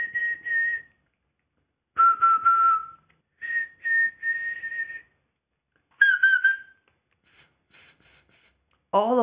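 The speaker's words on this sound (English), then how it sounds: "the breath friction inside your mouth is somehow converted into this whistle noise" A person whistles in several sustained, steady tones with short breaks, close and clear, ending in a quick rising warble; breathy air noise accompanies the notes.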